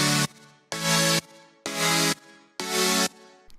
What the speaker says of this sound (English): So then I layered with this synth.